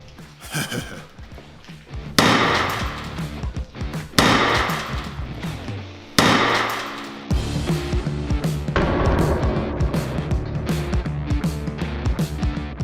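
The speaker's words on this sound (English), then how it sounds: "I suggest that we hit it again and go back to the sledgehammer." A sledgehammer smashes against armored bulletproof glass in a series of heavy, loud crashing blows spaced a couple of seconds apart, each impact followed by ringing, crackling glass debris and rattling.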